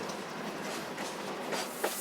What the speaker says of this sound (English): a new steam-powered railway known as the JITONG Line